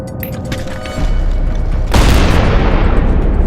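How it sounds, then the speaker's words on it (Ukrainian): Grenade explosion during combat fighting at Avdiivka, Ukraine: a low rumbling background is broken near two seconds by a sudden loud, close boom that spreads into a sustained roaring wash of noise to the end. "Це вони кидають! Це вони! Граната!"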